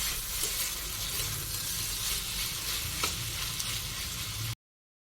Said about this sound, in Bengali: আলু ভাজাতে একটু সময় লাগবে।